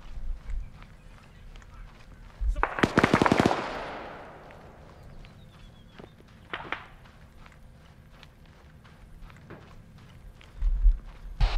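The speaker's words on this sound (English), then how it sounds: "I'm taking fire, but I don't know where from." Gunfire in the military shooter ArmA 3, a sharp burst of rapid shots around the third second followed by a few scattered, more distant single cracks over low ambient noise.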